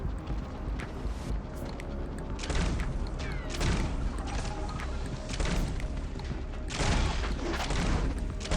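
Dense, continuous gunfire from the mobile shooter Shadowgun Legends, played on an AGM H6 rugged phone at ultra high graphics. Rapid shots run together with booming impacts and crashes throughout, loud and without speech.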